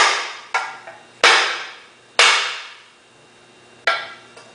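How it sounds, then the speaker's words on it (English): Several sharp rubber mallet taps seating a front crankshaft seal on an International Harvester Scout II ring out at uneven intervals, each decaying into a short metallic ring, with quiet gaps in between. "We're going to take our rubber mallet. We're just going to pop it into place."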